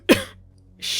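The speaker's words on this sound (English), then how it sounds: "I just coughed." A single sharp cough bursts out close by, followed by a short quiet gap and then a breathy exhale or rustle.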